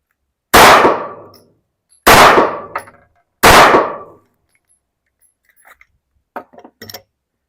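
Three loud, sharp gunshots at a shooting range, each a close, booming crack followed by a short decaying tail, spaced about one and a half seconds apart, then faint clicks and handling noises.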